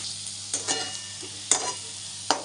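A curd and gram flour mixture cooking in oil: a soft steady sizzle is broken by about four sharp spoon clicks and scrapes against the pan, close but fairly quiet, with no talk.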